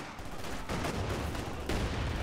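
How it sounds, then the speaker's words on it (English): Gunfire from infantry and vehicle units in the World War II strategy video game Company of Heroes 2, a dense rattle of overlapping rifle and machine-gun shots with sharper bursts, moderately loud and continuous. "And now just open fire and murder all those infantry units."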